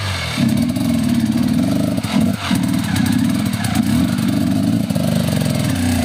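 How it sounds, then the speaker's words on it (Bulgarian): A motorcycle engine roars loudly and close, revving hard with a dense buzzing drone, dipping briefly mid-way before surging again, with faint outdoor noise. "Пусни мотора."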